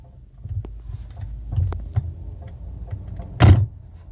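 A Chery Tiggo 7 Sport has its brake pedal pressed, producing faint, scattered clicks and creaking knocks in a quiet cabin, ending in one louder thud near the end.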